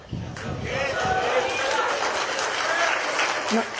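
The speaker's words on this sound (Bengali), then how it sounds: "এতে এত হাততালি দিচ্ছেন কেন?" An audience applauds a speech with a sustained burst of clapping from a crowd, loud and steady, and voices call out through it.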